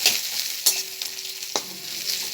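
Onion and red bell pepper sizzle in hot tempering oil for a chechinga curry, a steady bright crackle broken by two sharp clanks of a spoon against the pan, with no talking.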